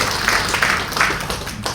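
Applause from a church congregation at a worship service, a brief burst of scattered clapping under the room's ambient noise.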